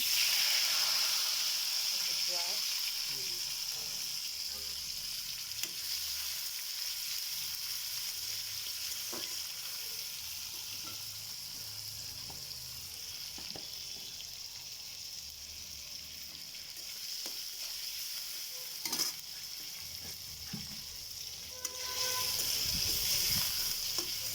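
Tomatoes frying in a hot wok (kadai) with steady sizzling and hiss, occasional stirring clinks, close and fairly quiet, continuous throughout.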